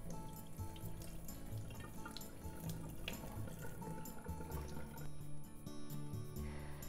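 Rinse water pours and trickles out of a pot of rice as it is drained in a home kitchen, a steady close splashing flow with faint drips and clinks throughout.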